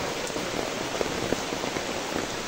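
Heavy rain pours steadily at Mat-e resort in Naawan, a dense, continuous hiss of drops on surfaces with scattered louder splats, no voices in the foreground.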